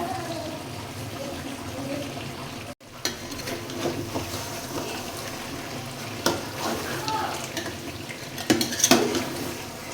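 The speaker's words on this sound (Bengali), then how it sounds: "তো মাংসটা ভালো করে কষিয়ে নেই, আস্তে আস্তে" Meat being stir-fried (kosha) in a pan, with continuous scraping and stirring clatter of a utensil against the pan and a soft sizzle, steady and close, a few louder knocks near the end.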